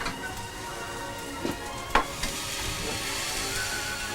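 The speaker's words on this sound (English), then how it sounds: "Just whisking in a tiny bit of Dijon mustard into this beurre blanc" Dijon mustard whisked into a warm beurre blanc sauce, a soft continuous sizzle-like hiss broken by a few brief clinks and scrapes of the whisk against the pan.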